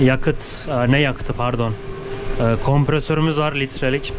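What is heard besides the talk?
None of the usual background noises is heard.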